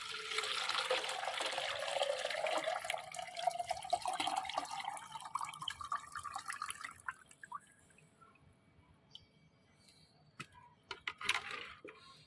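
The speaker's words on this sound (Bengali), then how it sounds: "সেই পাত্রের মধ্যে কিন্তু আমি এটা ছেঁকে নেব।" Homemade liquid plant feed for hibiscus strained into a vessel: a close, steady trickling pour that tapers off into scattered drips and small splashes, with no talking.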